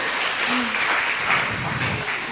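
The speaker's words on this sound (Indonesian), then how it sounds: "Boleh berikan tepuk tangan untuk para narasumber juga para penanya." An audience at a book launch and discussion event applauds the speakers, a dense, steady burst of clapping that fills the room for a couple of seconds.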